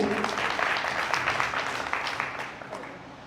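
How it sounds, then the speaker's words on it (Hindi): A crowd at a content creation workshop gives Praveen a loud round of applause, dense clapping that slowly fades over a few seconds. "तो एक जोरदार ताली हो जाए प्रवीण जी के लिए"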